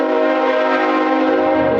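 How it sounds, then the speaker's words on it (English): A train horn blows in one long, loud, steady blast as a train passes near an outdoor beer festival, holding its tone for nearly two seconds with no talking. "That train. Look at the train."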